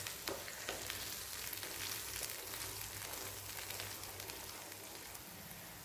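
Paneer curry masala with tomato being stirred slowly in a pan, a steady close sizzle with soft scraping of the spoon throughout, no voices.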